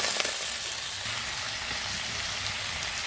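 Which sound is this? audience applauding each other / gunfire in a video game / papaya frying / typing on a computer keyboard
papaya frying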